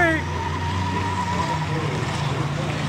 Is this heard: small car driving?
yes